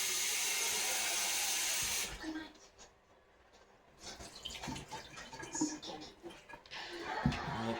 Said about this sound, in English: you're gonna wash your lettuce out real good